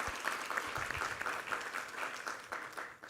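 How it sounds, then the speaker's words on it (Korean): A church congregation claps in praise at a Sunday worship service, a dense, steady patter of many hands at moderate level that carries on for a few seconds before thinning at the end. "우리 하나님께 감사와 영광의 박수 올려드리겠습니다"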